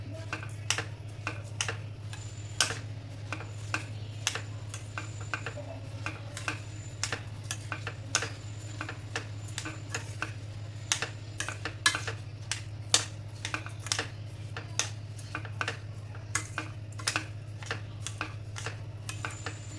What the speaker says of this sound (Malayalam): നമുക്ക് നന്നായിട്ട് ഇളക്കി കൊടുക്കട്ടെ.